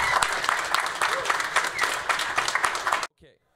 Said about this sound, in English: also a big applause to Tyler Doggett, Assistant Professor of Philosophy, coming all the way from Vermont